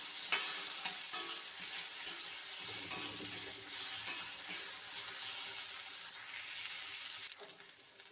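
Chopped okra dusted with turmeric is stirred in a frying pan for a Bengali neem bhindi dish, giving a steady, close sizzle broken by scraping stirs, with no talking.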